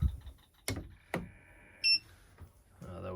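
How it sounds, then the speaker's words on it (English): A power inverter in a 2006 PleasureWay Excel camper van gives a short electronic beep as it switches on after the main cutoff switch is thrown, preceded by a couple of sharp clicks and followed by faint handling noise. "That was the inverter beeping as it came on."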